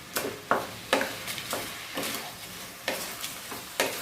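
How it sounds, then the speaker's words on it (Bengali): Butter chicken gravy gets stirred in a pan with a spoon, giving about eight distinct scraping strokes in an uneven rhythm over a faint simmer, close and moderately loud, with no talking. "এখন এটা ভালো করে নেড়ে চেড়ে এটা একটুখানি সেদ্ধ করে নেব গ্রেভির জন্য"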